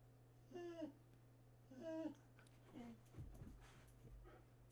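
A dog gives several soft, high whimpers in short separate bursts, followed by some quiet shuffling and thumps, all faint over a steady low hum.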